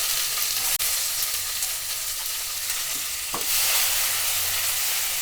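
Finely chopped onions hitting hot oil and masala in a kadai, a loud steady sizzle and crackle with a sharp clack of a spoon and stirring scrapes, close and continuous.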